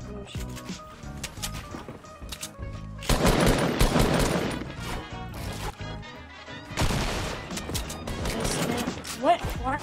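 Automatic gunfire in an online shooter game, with rapid bursts and crashing impacts at full volume mixed with game effects, while players talk over the action.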